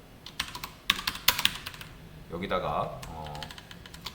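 A computer keyboard clatters with quick, uneven keystrokes while code is entered. Someone speaks over the latter part as the tapping thins out.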